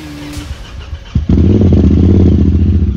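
A 2020 Honda Talon off-road vehicle engine with a new Trinity aftermarket exhaust fires up after a brief clatter and settles into a loud, throaty, rumbling idle with a deep, raw exhaust note.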